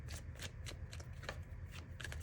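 Tarot cards being shuffled close by, a quick run of crisp riffling flutters repeating without a break.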